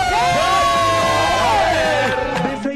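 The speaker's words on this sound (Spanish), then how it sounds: "¡Un aplauso para los D6!" Studio audience cheering and whooping for an a cappella vocal group on a TV variety show set, a loud sustained crowd roar with shouted voices rising and falling throughout.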